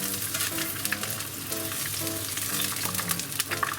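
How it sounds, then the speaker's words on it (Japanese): Enoki mushrooms deep-frying in oil, a steady crackling sizzle with dense bubbling pops and faint intermittent clinks from cookware, close and continuous without speech. "じゃあ残りもどんどん揚げていきたいと思います"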